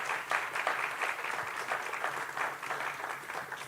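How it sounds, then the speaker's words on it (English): Audience applause for speakers at a commemorative event, a sustained spread of many hands clapping at moderate level, with a few sharper individual claps standing out. "please give Mr. McLaurin and Flonzie Brown-Wright another round of applause"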